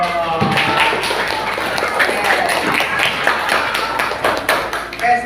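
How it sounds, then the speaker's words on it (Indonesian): A classroom group claps for a student named Aisyah after her coaching-session presentation, a steady patter of many hands near and moderately loud, with voices mingling underneath. "Tepuk tangan dulu dong."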